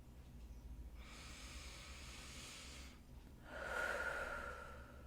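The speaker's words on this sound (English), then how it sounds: "Just take a breath." A slow, deep breath drawn in and then let out, a soft airy hiss lasting a couple of seconds each way, with a brief pause between, close and quiet against a low steady background hum.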